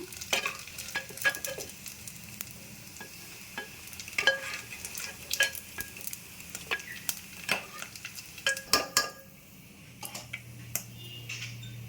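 Dried small fish sizzling and frying in hot oil, with a steady crackle broken by sharp pops and stirring clicks throughout, no talking.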